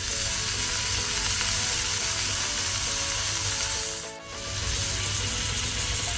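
Onion and tomato frying in a pan, a loud, continuous hissing sizzle with stirring scrapes, dipping briefly in the middle before resuming.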